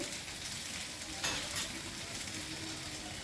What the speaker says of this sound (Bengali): আলু পটল ভাজা হয়ে গেছে, এবার আমি মশলা দিচ্ছি।